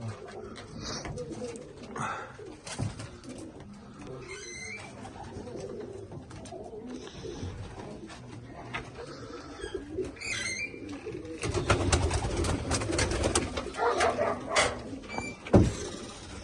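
Kırlangıç pigeons, including chicks, cooing inside a coop, with soft repeated coos over a rustling, busy background and a louder burst of shuffling and clatter later on.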